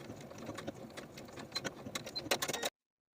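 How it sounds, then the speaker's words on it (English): A sewing machine stitches the short edges of bias tape in quick, irregular bursts of mechanical clatter, fairly close and moderately quiet, stopping abruptly near the end. "Then we're going to sew those short edges of the bias tape on both sides with a 1/4 inch seam allowance."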